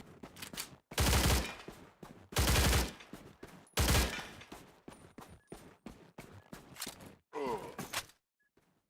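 M4A1 rifle fire in STALCRAFT: X PvP: several loud, sharp bursts of automatic gunfire about a second apart, each one close and punchy, with quieter sounds in the gaps between them.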